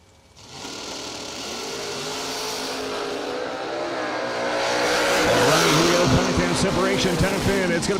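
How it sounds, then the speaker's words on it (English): At a drag strip a Corvette Roadster and a Camaro rev and launch, engines roaring louder and rising as they pull away, while an announcer talks over the noise. "The Corvette Roadster, 515 going to be the dial-in, going up against Bryson Scruggs"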